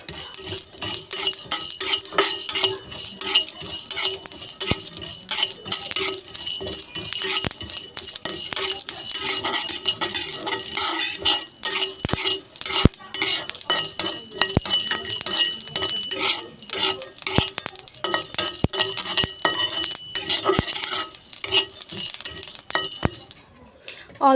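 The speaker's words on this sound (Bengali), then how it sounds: "এগুলো আমি শুকনো খোলায় ভেজে নেব।" Cardamom, cinnamon, cloves, pepper and cumin being dry roasted in a pan over low heat, heard as a steady close scraping and rattling of spices stirred against metal, with occasional sharp clinks and no talking.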